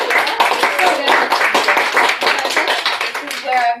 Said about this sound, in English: give another round of applause for Criscilla